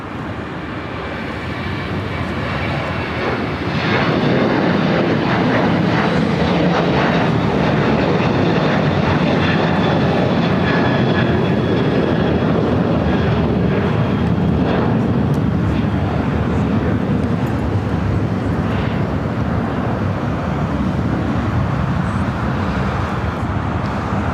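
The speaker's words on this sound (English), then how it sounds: "Was United Airlines flight 2610 heading to Denver in the 737-800" A United Airlines Boeing 737-800 jet bound for Denver roars steadily and loudly at LAX, a broad continuous engine rumble that swells in the first few seconds and then holds alone.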